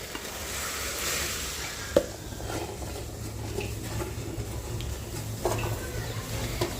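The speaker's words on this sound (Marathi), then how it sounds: "पाण्याला उकळी आली आहे आता आपण साबुदाणा पाण्यामध्ये टाकून देऊ" Sabudana (sago) stirred into boiling water in a pot, a steady bubbling and sizzling hiss with a few clinks and scrapes of a spoon against the pan.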